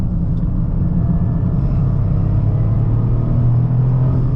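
A 2025 Toyota GR Corolla engine pulling at full throttle through a tight left-hander, a loud, steady low rumble with a rising drone, heard close from inside the cabin with no talking.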